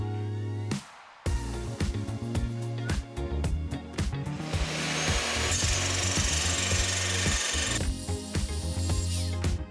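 Table saw cutting wooden clamp rails 270 mm long, a loud, continuous rasping whine with pitch shifts as each cut runs, after a brief pause near the start; no voices.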